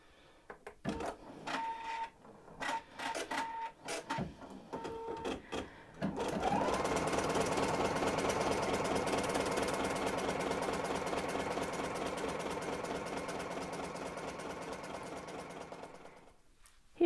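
Embroidery machine stitching a strawberry-design quilt block in the hoop, with a satin border: short intermittent bursts of stitching at first, then a long, steady, loud run of rapid mechanical stitching that fades near the end.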